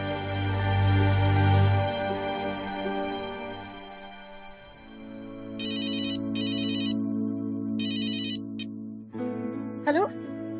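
A phone ringtone plays as a melodic tune, broken into short repeated bursts of chiming tones, with a voice heard briefly near the end.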